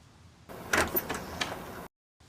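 Police open a door in a domestic setting, a rolling, scraping slide lasting over a second before an abrupt stop, fairly close.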